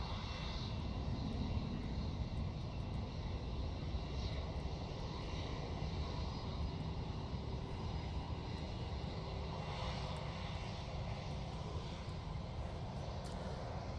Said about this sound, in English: Nige will be departing to go to London Heathrow using their A320-200